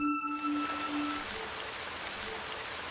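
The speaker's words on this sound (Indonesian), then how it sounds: "Hingga cuaca hujan pun turun." Rain falls steadily in a film scene as a dense, even hiss of drops, beginning just after a brief tonal sound fades, with no voices.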